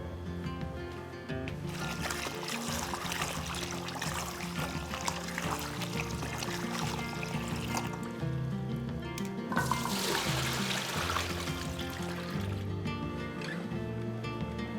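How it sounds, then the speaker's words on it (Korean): Garlic scapes are rubbed and rinsed by hand in cold water, with continuous splashing, sloshing and trickling in a basin, rising into a louder burst of churning water near the end. "담가뒀다가 비벼서 헹굴게요"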